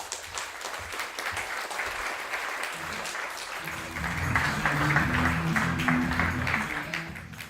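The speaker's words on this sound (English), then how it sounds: "please give a round of applause to Jacob Rawcliffe" An audience at a live speaking night applauds a speaker, the clapping soft and scattered at first, then swelling louder and fuller midway as more hands join in.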